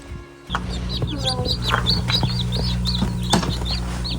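Baby silkie chicks and hens in a nursery coop, with repeated high peeping chirps over a steady low hum, close and continuous throughout.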